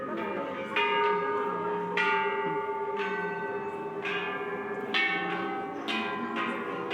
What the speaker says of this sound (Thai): ตรงนี้จะมีระฆังไว้ตี ด้านข้างนะคะเป็นคนเดินตีระฆัง